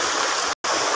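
A flooded stream rushes beside a footpath in a steady, loud, close roar of water, broken only by a momentary dropout.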